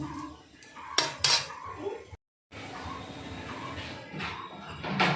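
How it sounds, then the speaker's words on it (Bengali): Fish pieces get stirred in hot oil in a metal pan, with sharp clinks and scrapes of a utensil against the pan over a low background hiss, close up and brief. "দিয়ে তেলের সঙ্গে একটু নাড়াচাড়া করে নিলাম"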